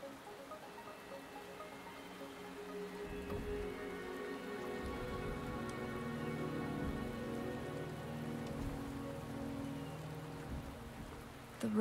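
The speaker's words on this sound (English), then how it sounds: "The rain is subsiding, and the sky will soon clear." Steady rain falling in the video game Wuthering Waves, a continuous soft patter and hiss that holds at an even level, with a few low thumps underneath.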